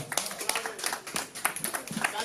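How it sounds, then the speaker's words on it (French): An audience at an evening book-signing party claps in a dense, uneven patter, with a voice speaking over the clapping the whole time. "ça s'applaudit fort encore"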